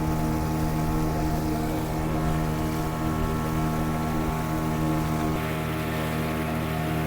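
A motorboat heads out toward Monkey Island off Goa, its engine droning in a steady, fairly loud hum with wind rushing over it and no voices.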